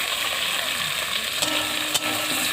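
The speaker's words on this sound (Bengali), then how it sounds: "টমেটোগুলো দিয়ে দিলাম।" Tomatoes added to frying onions in a pan sizzle steadily and close, a constant crackling hiss with a couple of sharp spatula clicks near the end.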